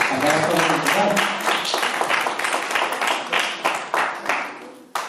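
Applause from a church student group audience, dense clapping filling the room for a few seconds and tapering off near the end, loud and close with some voices mixed in.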